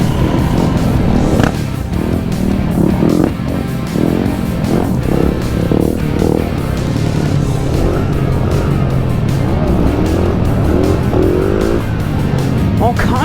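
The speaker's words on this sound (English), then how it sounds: "All kinds of bikes here today" Motorcycles at an outdoor bike meet rumble and rev loudly and steadily throughout, with engine noise close and continuous while people talk over it.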